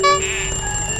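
Mechanical alarm clock ringing loudly and continuously at close range, a bright shrill metallic ring that holds steady through the whole moment.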